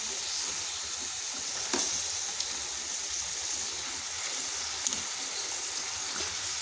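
Slices of suran, elephant foot yam, frying as chips in hot oil, giving a continuous even sizzle with a couple of brief sharp pops, close and alone without talk.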